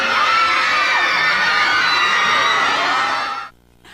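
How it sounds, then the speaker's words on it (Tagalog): Mall crowd watching a TV show on a big screen, roaring with loud, sustained cheers, shrieks and shouts that stay at full volume and then drop away abruptly near the end. "Lumagundong ang hiyawan"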